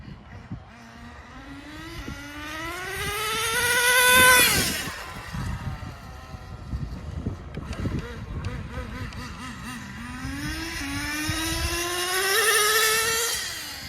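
An HPI Racing RS4 3 Evo RC car whines past on a night run, its electric motor pitch climbing as it accelerates toward a close peak, fading, then rising again on a second pass.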